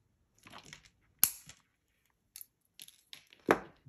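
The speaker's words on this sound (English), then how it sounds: "We're going to grab our wire cutters." Wire cutters snip jewelry wire while a chunky stone bracelet with simple loops is being made: a few crisp, close clicks and snaps separated by quiet pauses, with faint handling rustles between the cuts.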